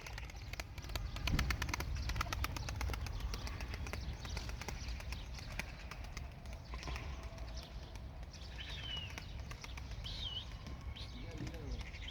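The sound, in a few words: pigeon released, wings flapping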